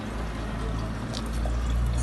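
Water pours steadily into pets' drinking bowls, a continuous close splashing fill lasting a couple of seconds with a low background rumble and no talking.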